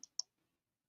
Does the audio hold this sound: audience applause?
no